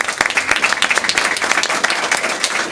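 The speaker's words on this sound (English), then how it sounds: "give him a big round of applause for that" Parents and staff at a school board meeting give a round of applause, a loud, close, dense clatter of many hands with distinct individual claps poking through for nearly three seconds.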